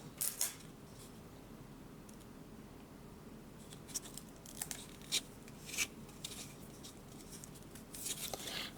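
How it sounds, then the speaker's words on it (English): Tape is pulled and pressed onto model rocket parts, an Estes Pro Series So Long kit, in quiet close-up, with scattered short crackling rips and rubs over a hushed room. "Tape them together."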